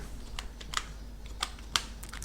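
A field name is typed on a computer keyboard while setting up a table in MS Access 2007, with sparse, close keystrokes and a few sharper, louder taps standing out against a quiet room, and no talking.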